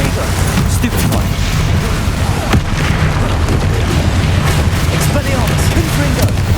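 Bombarda spell explosions in Hogwarts Legacy combat, a dense, continuous barrage of booming blasts and crackling impacts with shouted incantations mixed in.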